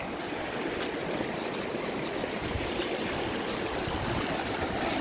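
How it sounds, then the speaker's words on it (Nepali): Steady rushing flow of a muddy glacial snowmelt stream near the Dhaulagiri Icefall, a constant broadband churn of water close by with no pauses and no voices. "हिउँ पग्लेर आएको पानी"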